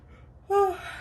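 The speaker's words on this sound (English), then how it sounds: "See how I'm yawning" A single human yawn, a rising then falling vocal sigh about half a second long, close and fairly loud over a faint background.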